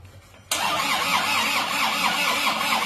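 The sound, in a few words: Isuzu Panther pickup engine starting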